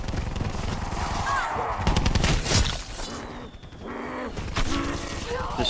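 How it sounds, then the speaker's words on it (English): Rapid machine-gun and rifle fire in Call of Duty: Black Ops IV Zombies, loud continuous bursts with heavy booms layered over game noise, barely pausing across the stretch. "Just shoot him a couple times and knife him."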